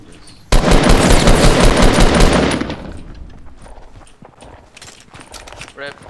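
Sustained loud automatic gunfire in Fortnite, a dense burst starting abruptly and hammering for about two seconds before tapering into scattered shots and footsteps, with a voice talking in the background.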